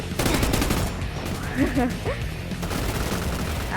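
A double-barrel shotgun firing in a Roblox gun fight arena game, loud repeated blasts and gunfire in a busy game mix, with a person talking over it.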